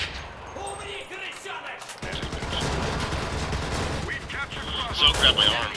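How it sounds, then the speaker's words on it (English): Gunfire rings out in a quiet pine forest to the west, a rolling series of booming, crackling shots that build in intensity, mixed under a narrating voice and ambient background. "we heard the gunshot. The boom of a shot to the west"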